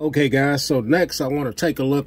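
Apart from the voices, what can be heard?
None of the usual background noises is heard.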